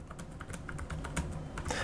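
Rapid, steady key taps on a low-travel backlit laptop keyboard, close and fairly quiet, clicking continuously without any voice.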